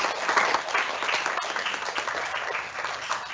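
Students at an academic awards ceremony applaud themselves in a dense, even round of clapping that holds steady for a few seconds, fairly close and loud, with no talk over it.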